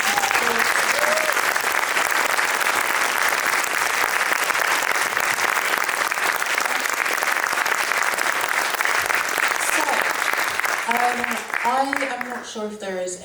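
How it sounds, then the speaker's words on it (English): Sustained audience applause at a London conversation event with two guests, a dense, even clapping from a large crowd that fades near the end as a voice begins speaking. "Can we have a round of applause?"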